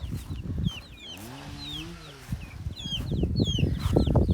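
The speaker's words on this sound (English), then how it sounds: "I have 4 standard guineas" Standard guinea fowl call outdoors in short, repeated chirping cries, with a lower clucking call in the middle, over rustling and handling noise close by.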